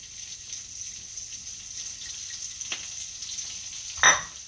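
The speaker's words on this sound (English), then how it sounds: "But we've got it all nice and sauteed up now." Octopus with peppers and garlic sizzling steadily in a pan, a soft continuous fry with a sharp clatter or spatter near the end; no talking.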